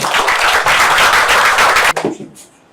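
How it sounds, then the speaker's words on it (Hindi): Loud, dense applause from a crowd, sustained for about two seconds before cutting off and trailing into a few scattered claps. "दोनों हस्बैंड वाइफ के लिए जोरदार ताली हो जाए"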